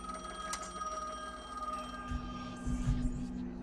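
Telephone ringing inside the video game The Medium, a steady electronic ring with tonal hum, moderately loud, alongside low rumbling game ambience and a few faint thuds.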